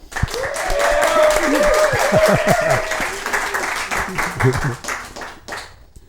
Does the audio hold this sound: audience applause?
yes